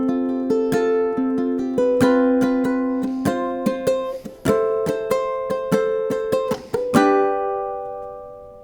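A ukulele strums the verse and closing bars of a song in a steady rhythmic pattern of bright chords, played close and alone, ending on a ringing chord.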